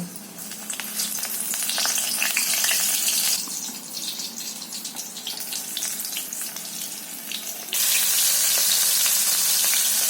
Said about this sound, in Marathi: माझ्या शेवग्याच्या शेंगा फ्राय करून झाल्या। मसाला फ्राय मसाल्यामध्ये फ्राय केल्या।